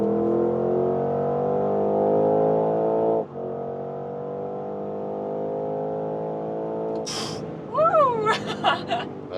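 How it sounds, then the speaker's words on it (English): Porsche Cayenne GTS with a 4-liter V8 accelerating hard on a motorway from 100 to 170 km/h, a loud steady engine drone with rising harmonics throughout, easing slightly midway, then a voice speaks briefly near the end. "even in that acceleration area, of course, this 4-liter V8 is doing a great job."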